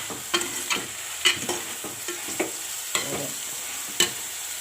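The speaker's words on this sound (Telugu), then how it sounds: "ఆయిల్ వేసి ఉల్లిపాయలు పచ్చిమిరపకాయలు వేసాను. కరివేపాకు కూడా వేసాను" Onions, green chillies and curry leaves fry in oil for a curry, giving a constant close sizzle with a handful of spaced spatula stirs and taps.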